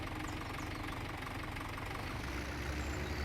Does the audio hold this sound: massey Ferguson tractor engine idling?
yes